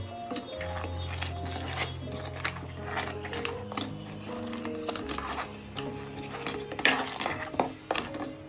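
A utensil clinks and scrapes in a pan as crab sukka masala is mixed with rock salt, making soft, irregular clatter close by over a low steady hum.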